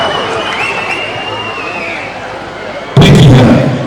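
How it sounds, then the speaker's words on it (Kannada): A sudden loud burst of crackling bangs after a quieter stretch of background noise, sharp and close, like firecrackers going off. "ನನಗೆ ಮುಂಚೆ ಪಟಾಕಿ ಹೊಡಿತಾ ಇರ್ತಾರೆ"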